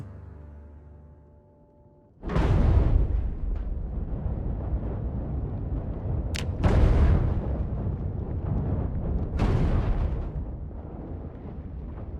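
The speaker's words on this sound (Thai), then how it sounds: "อยู่ๆเกิดเหตุการณ์ระเบิดขึ้นในบ้าน ไฟไหม้ได้ลุกลามอย่างรวดเร็ว" A sudden heavy explosion tears through a house in the zombie survival game Project Zomboid, a deep roaring blast after a quiet lull, followed by rumbling fire and two more sharp bursts before the noise slowly settles.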